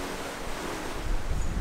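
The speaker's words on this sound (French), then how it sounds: "on a dépassé les 30 nœuds de vent là" Wind above 30 knots roars over open sea aboard a sailboat, a dense, constant rush of gusting air and surf noise buffeting close to the microphone.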